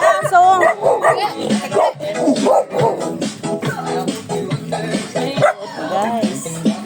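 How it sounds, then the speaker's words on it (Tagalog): A dog barks and yips repeatedly close by on a rural vegetable farm, loud and mixed with people talking throughout. "Ay, may aso."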